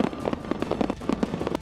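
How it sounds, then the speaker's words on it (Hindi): Fireworks and firecrackers bang in celebration over California, a rapid irregular series of sharp pops and crackles at close to moderate distance, dense and overlapping with no voices. "चारों तरफ पटाखों की आवाज गूंजती सुनाई दी।"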